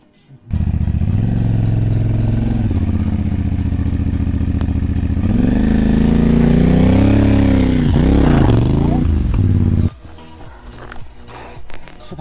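A CFMOTO motorcycle stuck on a rough mountain trail in Manang, Nepal, revs hard in sustained bursts, its engine note rising and wavering close by before cutting off abruptly near the end.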